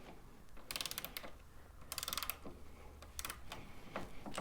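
A torque wrench tightens the oil drain plug on the skidplate of a KTM 790R motorcycle, with several close bursts of rapid ratcheting clicks separated by short pauses.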